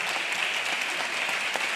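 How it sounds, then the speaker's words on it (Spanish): An audience at a design biennial lecture in Córdoba breaks into dense, continuous applause, a steady wash of many hands clapping at once, fairly loud and without speech. "Fuerte el aplauso"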